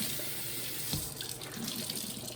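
Tap water runs into a sink while a necktie is rinsed, a steady close splashing rush with brief shifts in the flow as the fabric moves under the stream.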